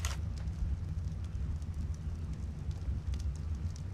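A fire burns in the video game ARK: Survival Evolved, a close, steady crackling roar with scattered sharp pops running without pause and no voices over it.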